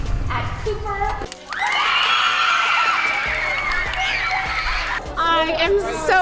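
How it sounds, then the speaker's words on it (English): Cheering crowd with children shouting and whooping for a winner at a Braves STEM competition, a loud sustained roar of voices that swells and dips, with scattered claps underneath and louder bursts near the end. "We want a round of applause for our winner at Cooper."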